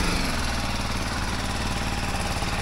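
A motorcycle engine, either a BMW G 310 GS or a Honda XR650L, idling steadily close by, a continuous low throbbing rumble with no voices.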